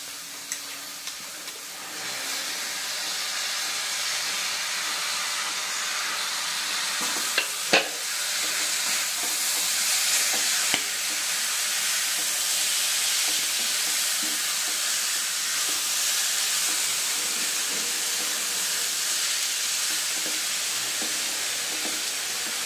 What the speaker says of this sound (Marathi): मसूर टाकून घेते